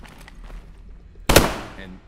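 A single sharp, loud gunshot goes off close by in the zombie shooter video game Beautiful Light and fades out quickly, after faint background noise.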